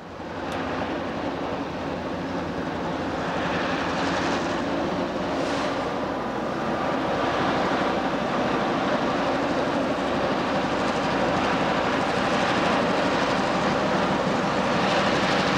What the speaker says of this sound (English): The tight turns on the north slope add to the power required to muscle trains up this grade.